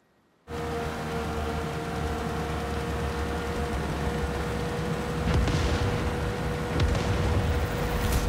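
A steady low rumble with scattered booming blasts, growing louder in a couple of bursts toward the end, like fireworks, from explosions in Far Cry 6.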